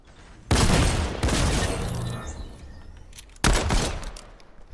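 Gunfire bursts out in a Fortnite robbery, with loud, close rapid volleys. One long burst is followed by a short pause, then a second sharp burst, with no talking over it.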